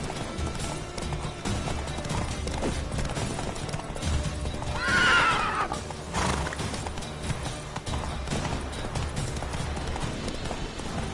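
Geralt's horse Roach in the video game The Witcher 3 gives a loud whinny in the middle of continuous trotting hoofbeats, with game ambience underneath.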